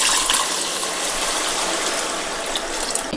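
Measured water is poured from a tumbler into a pot of chicken biryani masala, a steady close gushing splash that fills the clip with no talking.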